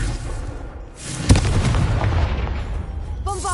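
Confringo spell explosion in Hogwarts Legacy, a sharp loud blast after a brief lull, followed by a rumbling, crackling tail that lingers for a couple of seconds.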